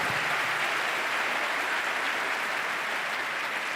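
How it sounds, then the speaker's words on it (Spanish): Steady applause from an audience at a conference on drug legalization, a continuous soft wash of clapping heard from a distance without talk. "Un aplauso."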